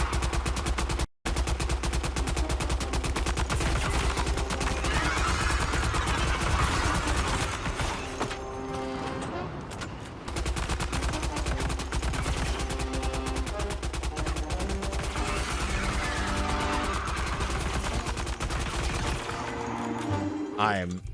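Heavy, continuous rapid gunfire during a Death Stranding 2 combat encounter keeps up almost without pause, with a brief dip partway through and a tonal whine at the end.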